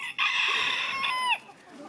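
A rooster crows once, loud and close, a single sustained call that rises, holds and then drops off sharply, with faint outdoor ambience afterward during a family walk.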